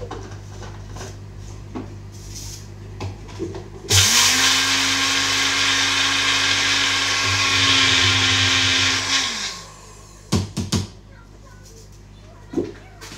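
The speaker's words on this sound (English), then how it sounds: "going to grind it up in my blender" A blender grinds flaxseed loudly for about six seconds, a steady whirring grind with a constant motor hum, between quieter kitchen clatter and brief knocks.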